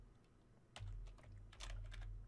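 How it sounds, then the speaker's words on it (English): A computer keyboard being typed on while coding VBA for a PowerPoint game, a short cluster of soft clicking keystrokes, close but quiet, with faint room hum and no talking. "the way that works is I type selected"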